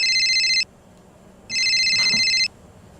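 A telephone rings in two electronic bursts, a short one and then a longer one after a pause, loud and close, with no talk over it.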